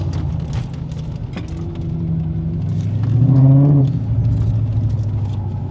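A turbocharged car accelerates hard at a roll racing event, its engine roaring louder and climbing in pitch to a peak before easing off, with crowd and event noise rumbling in the background.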